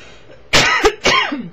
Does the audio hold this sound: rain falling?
no